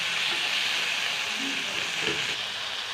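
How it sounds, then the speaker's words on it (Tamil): Tomatoes sautéing with salt in a pan for an egg white kurma, giving a steady loud sizzle and hiss throughout, with a few faint stirring scrapes. "உப்பு போட்டு நல்லா தக்காளி வதங்கணும்."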